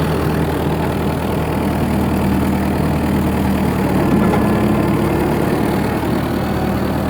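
A New Holland 900 forage harvester engine idles steadily on a wet, dreary day, a continuous deep rumbling drone up close without any speech.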